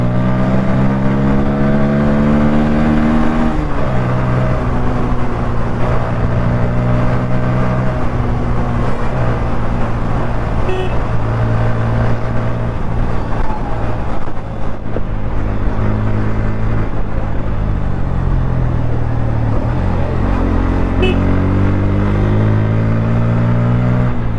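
A Bajaj Pulsar N160 motorcycle engine roars close by, its pitch climbing as it accelerates, dropping between gear shifts and rising again, steady and loud with no talking.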